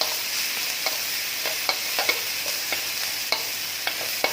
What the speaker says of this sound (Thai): ใส่พริกที่เราตำลงไปครับ ผัดให้หอมเลยนะฮะ